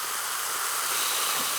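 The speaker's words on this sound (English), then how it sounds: "That's what we want to hear, that sizzle." Food sizzles on a hot grill, a steady, close broadband hiss that holds evenly from start to finish with no voices over it.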